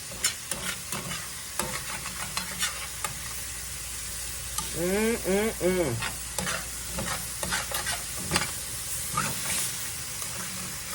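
Cowboy pasta is stirred and scraped across the bottom of a skillet, with repeated gritty scrapes and utensil knocks over a steady sizzle, and a brief squeaky tonal rubbing midway through.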